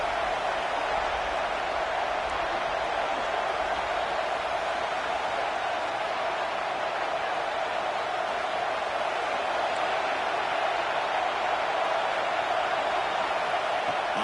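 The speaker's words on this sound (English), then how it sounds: "here comes the noise. This crowd is trying to inspire this defense to make a big red zone stop." A stadium crowd roars steadily during a UFF football game, pushing its defense toward a red zone stop, as a constant, dense wash of noise with no breaks throughout.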